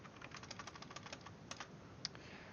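Rapid, steady keystrokes on a computer keyboard, close and clear, with a couple of sharper key strikes and no voices.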